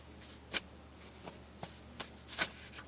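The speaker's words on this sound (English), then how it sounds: "Cards are just flying all over the place." Tarot cards are shuffled in a few soft, separate riffling bursts with quiet gaps between them, faint and close with no talking.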